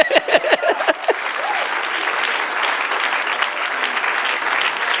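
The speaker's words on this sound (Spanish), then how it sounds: "Dale un aplauso al que vive." Church congregation applauding during a Spanish-language sermon, steady dense clapping filling the space after a few sharp opening claps from a voice trailing off, sustained and fairly loud throughout.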